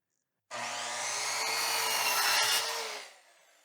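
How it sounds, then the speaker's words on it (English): A Harbor Freight Warrior 7-1/4 inch miter saw cuts baseboard molding, its motor starting abruptly into a loud, steady high whine for about two and a half seconds, then winding down, close and alone. "see if we get a 45-degree cut. This is a piece of baseboard molding."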